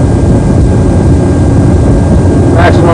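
An airliner's jet engines roar at takeoff power, a loud, steady, broadband rumble that fills the whole stretch without letup, heard from close by.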